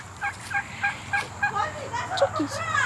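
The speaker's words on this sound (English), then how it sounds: "Turkeys." Turkeys on a farm gobble in a string of rapid, bubbling bursts, moderately close and fairly faint against outdoor background noise.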